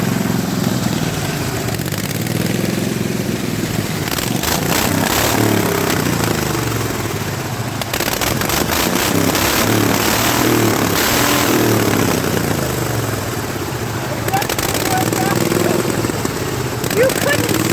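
Racing lawnmower, pulley-swapped, with its throttle held wide open, drones as a loud, steady engine roar throughout, with continuous crowd chatter and talk mixed in.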